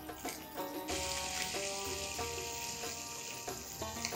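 Ginger garlic paste sizzling in hot oil with cumin and bay leaves while cooking chole, a steady close crackling fry with a few stirring clinks over it.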